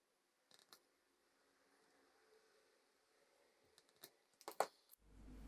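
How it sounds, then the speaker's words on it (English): Scissors snipping small paper pieces for a homemade pocket-watch pinhole camera, a few sparse, close, quiet cuts separated by near silence, with one sharper clustered snip near the end. "there really are quite a few small pieces that need to be cut out"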